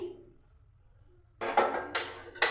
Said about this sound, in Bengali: ফুটন্ত জলে পেঁয়াজ দিয়ে দিচ্ছি